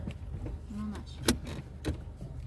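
A car creeping forward at low speed, a steady low engine rumble close by, broken by a couple of sharp clicks and thuds.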